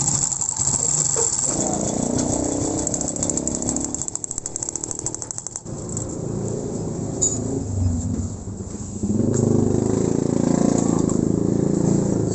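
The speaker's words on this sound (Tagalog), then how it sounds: "umandar na yung motor." A Honda XRM 110 motorcycle, just restarted after an ignition switch fault, idles nearby with a rattling mechanical chatter and a buzzy drone that swells louder toward the end.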